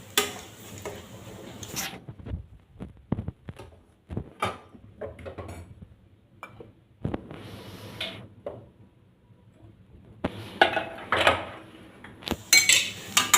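Chopped coriander is stirred into food in a pan, with a spoon clattering and scraping against the metal in uneven bursts and short pauses, close and fairly loud.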